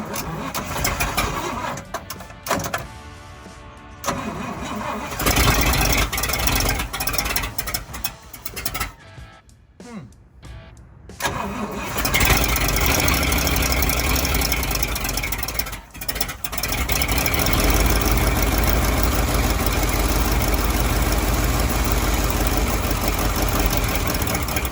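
A fire truck engine cranks and catches after an ignition timing adjustment, sputtering unevenly at first, then settling into a loud, steady idle that runs close and continuous with a brief dip partway through.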